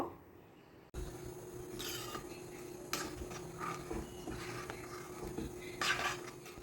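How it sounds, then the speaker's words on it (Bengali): A spoon stirs lentils and water in a metal pan, giving scraping, clinking strokes against the pan with soft sloshing, close and irregular, beginning after a brief quiet moment. "এখানে আমি দুই বাটি মতো জল দিয়ে দিচ্ছি ভালো করে একটু নেড়ে চেড়ে মিশিয়ে নেব"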